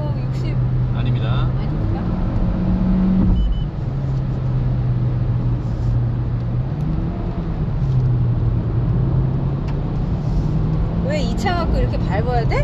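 A Hyundai Avante CN7 in sport mode accelerating, its engine a steady droning hum that rises and dips in pitch, heard from inside the cabin with people talking over it.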